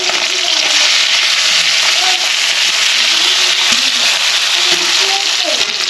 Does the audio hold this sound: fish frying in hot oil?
yes